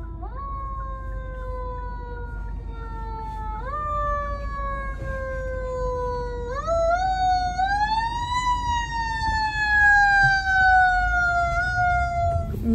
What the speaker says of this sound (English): So many sirens.